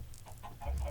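Minecraft chickens cluck in a short burst of soft, close clucks that repeat a few times in under a second over a low background hum.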